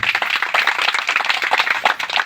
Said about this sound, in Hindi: आप सभी लोग उनके सम्मान में जोरदार तालियों से स्वागत करें